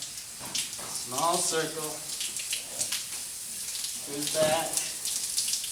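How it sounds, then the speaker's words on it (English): Water sprays steadily from a nozzle during a dog's bath, a continuous hiss under a voice giving calm instructions throughout. "Start the water."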